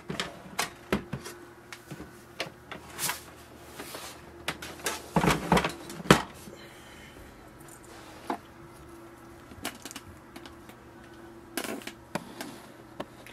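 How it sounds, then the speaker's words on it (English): Closing the cover section of a Canon printer with a blinking-light error gives a run of sharp plastic clicks and thumps, close by, with a denser cluster of knocks in the middle and no talking. "Now close this section."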